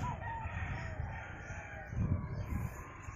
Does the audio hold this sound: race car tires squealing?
no